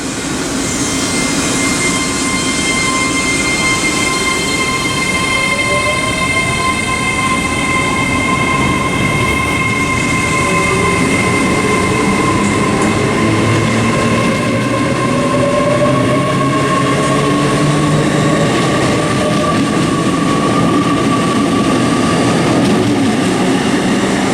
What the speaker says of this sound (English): the final now is going to be the 1456 Great Western Railway service from Hereford to London Paddington.